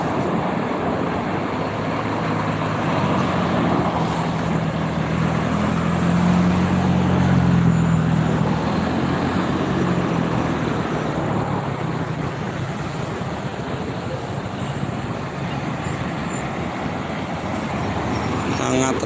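Heavy post-Eid traffic jam on an Indonesian road: a continuous low rumble of engines and road noise throughout, with a louder vehicle swelling past midway and people talking faintly under it.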